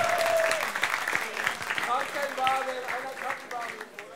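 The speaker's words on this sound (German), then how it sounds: "Ein Applaus bitte" Audience applause at a live esports match event in Berlin, a steady wash of clapping that fills the whole stretch while a voice speaks over it.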